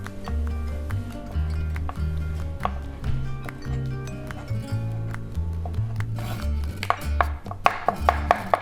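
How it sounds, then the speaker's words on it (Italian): A knife chops meat quickly on a board, finely mincing it, a steady run of sharp taps over low background music, the strokes getting louder and crisper near the end. "E passiamo ancora il coltello in questo modo, in modo da tritare il meglio possibile."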